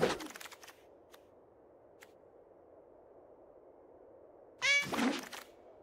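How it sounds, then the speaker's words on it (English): A cat meow sound effect in a Magic card game, heard once, a short clear meow near the end after a thunk and quiet clicks, with no talking. "I love the cat sound it makes."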